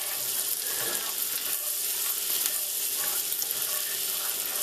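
Onions sautéing gently in butter in a pan over lowered heat, a steady close sizzle with faint scraping clicks running throughout, no voices.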